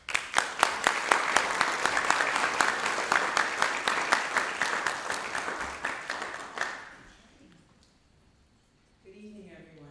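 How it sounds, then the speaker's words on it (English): An audience at an evening event applauds in a dense, sustained round of clapping that gradually thins and fades out, followed by a moment of near quiet and then a voice beginning to speak. "Wonderful round of applause again for Abigail."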